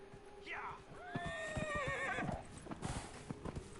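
A horse whinnies with a rising, wavering call in the video game Dragon Age Inquisition, followed by a run of hoof clip-clops, moderately loud and close with faint background ambience.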